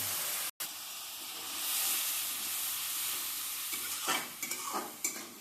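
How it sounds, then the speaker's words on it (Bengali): A spice paste of chili powder, ground cumin and turmeric sizzles and fries in a pan with a little water, giving a steady close hiss, with scraping stirring strokes in the last seconds. "এবারে মশলাটাকে সামান্য একটু জল দিয়ে কষিয়ে নেব।"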